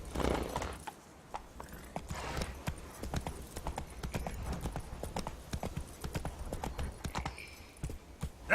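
Roach, a horse in The Witcher 3, gallops with a steady, rhythmic clip-clop of hooves that runs the whole time, with a brief whinny near the end and a rider's voice softly urging it on.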